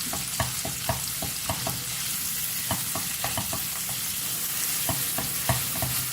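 Ground beef sizzles steadily as it fries in melted butter and oil in a pan, with a dense hiss broken by regular scraping knocks as the meat is mashed and stirred, close and fairly loud, with no talking.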